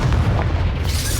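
The Confringo fire spell from Hogwarts Legacy goes off in a loud, close, rumbling blast. A deep boom holds for just over a second, alone and with no talk over it.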